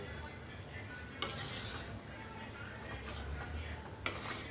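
Semolina and gram flour roasting in ghee for sweet laddoos, stirred in a pan with a steady soft scraping hiss and two sharper scrapes against the pan, quiet and close.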